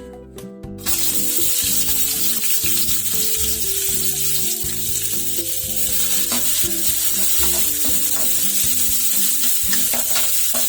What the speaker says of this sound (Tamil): எண்ணெய் நல்லா காஞ்சு வந்துருச்சு. எண்ணெயில் இஞ்சி கொட்டிக்கலாம்